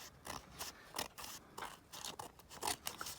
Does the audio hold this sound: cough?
no